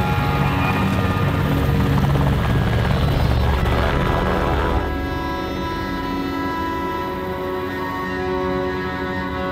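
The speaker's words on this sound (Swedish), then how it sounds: "när du ser en helikopter komma in" Military helicopter arriving during an army training exercise, a loud, close rotor thumping and turbine roar that stays strong throughout, easing slightly partway as the engine note steadies.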